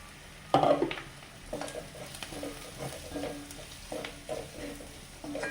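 Onions browned in a pan sizzle and fry as roasted ground spice powder is stirred in, with a sharp burst as the powder hits the oil, then steady frying and spoon scrapes close by, no talk.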